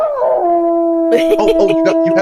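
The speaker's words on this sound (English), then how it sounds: "Well, I got the werewolf howl down." A werewolf howl sound effect: a long, steady, wavering howl opens loud and close, then gives way to several overlapping voices talking.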